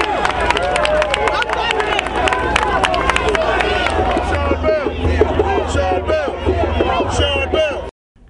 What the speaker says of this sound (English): The crowd reacts with applause and more chants.